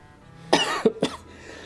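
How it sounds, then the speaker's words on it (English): A single short bout of coughing, two or three sharp bursts close to the microphone, in an otherwise quiet room. "a timely cough there"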